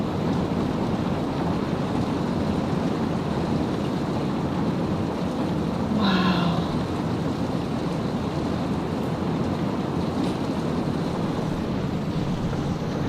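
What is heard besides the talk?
heavy pouring rain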